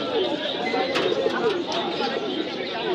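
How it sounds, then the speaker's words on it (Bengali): Pigeons coo at a busy pigeon market, soft throaty calls repeating over a steady murmur of crowd noise, with brief sharper chirps now and then; voices talk in the background. "এই একটা দেখেন, পুরানা জাতের কবুতর"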